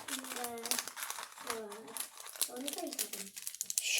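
Crinkly plastic wrapper of an imported snack being torn open close up, with rustling crackles running through the stretch while someone talks over it.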